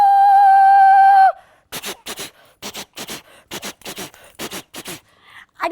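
On a stage, a performer's voice mimics a passing train: a long, steady whistle like a horn, then a run of sharp, rhythmic chuffing bursts evenly spaced like wheels and steam.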